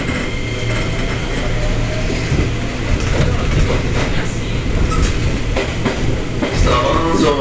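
A KRL commuter train runs steadily near Bekasi station, a loud continuous rumble of wheels on rails with a low engine hum and brief metallic clicks.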